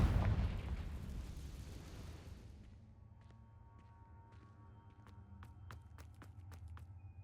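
A Confringo fire spell blasts off in Hogwarts Legacy, opening with a loud, rumbling explosive burst that decays over a few seconds into a low ambient hum with scattered faint clicks.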